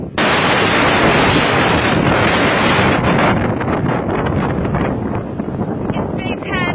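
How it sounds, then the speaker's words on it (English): Strong gusts on a Continental Divide hiking trail buffet the microphone in a loud, roaring rush that fills the first half, then break into choppier bursts and flutters as the wind eases slightly. "It's crazy windy."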